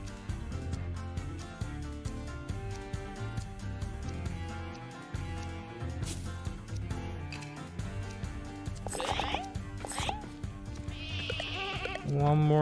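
Sheep bleat in the herding video game Lumberhill, several short cries near the end over steady game music and effects, with a player talking throughout.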